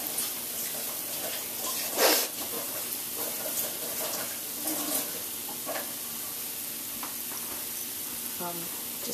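Wadas deep-fry in hot oil with a dense, continuous sizzle and crackle. Occasional splashes, taps and a brief water-like rush are mixed in.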